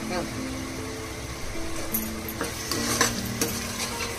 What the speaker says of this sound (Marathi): मसाला आपला चांगला पहिला भाजून घ्यायचा. त्यानंतर टाकूया 5-6 मिरच्या.